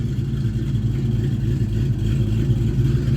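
A hot rod car driving along, its engine giving a steady, loud low rumble with a slight rhythmic pulse, heard from close by and uninterrupted, with no talk.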